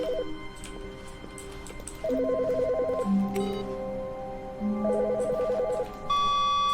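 A telephone rings in The Stanley Parable, its electronic double-tone trill sounding in two clear bursts over a low ambient hum, followed by a higher tone at the end.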